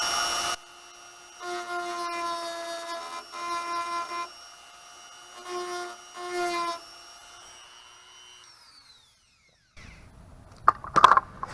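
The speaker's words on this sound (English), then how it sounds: "I just take my little Dremel tool and I can show you here real quick what that looks like" A small Dremel rotary tool whines in several bursts with steady harmonic tones while touching up paint chips on a 1965 Dodge Coronet, spinning down gradually, then brief scraping clicks after a pause.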